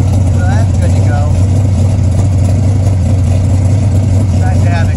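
A 1976 Chevy C20 truck engine runs steadily through its exhaust, a loud low idle drone filling the whole stretch while someone talks over it.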